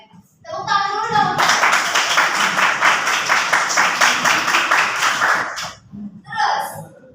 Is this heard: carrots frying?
no